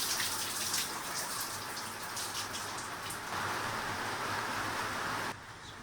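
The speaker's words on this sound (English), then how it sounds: "Eventually, though, the rain slowed down." Steady rain pours in a dense, even hiss that holds for several seconds, then drops abruptly to a softer patter near the end. No voices.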